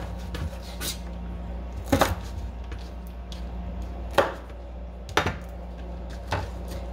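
A knife trims greens on a cutting board in a home kitchen, giving a few scattered, sharp chopping knocks at irregular intervals over a quiet background.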